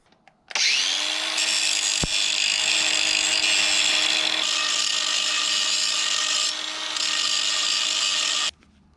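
A file or rasp grinds steadily against a bump on the metal rim of a 1987 Yamaha Big Bear 350 4x4 ATV, one loud continuous abrasive rasp lasting about eight seconds, close up with no talking.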